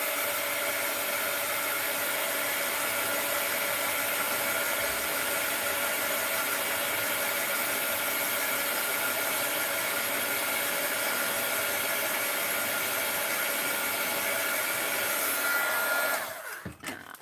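A handheld dryer blows to dry paint on a mixed-media art journal page, a loud, steady whooshing whir held for about sixteen seconds before it cuts off abruptly.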